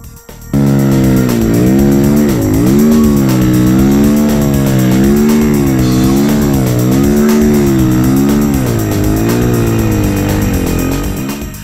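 Timbersled snow bike ridden through snow, its engine droning loudly and continuously with repeated rising and falling revs as the throttle opens and eases.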